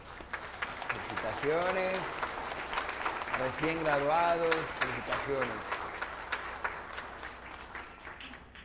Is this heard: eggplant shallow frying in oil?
no